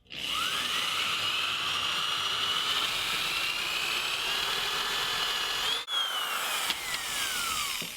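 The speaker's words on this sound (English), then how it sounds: "I'll just drill through all 4 at once" A power drill whines steadily at high speed, biting through four stacked wooden garden stakes at once with a brief pause partway before spinning up again; close and loud.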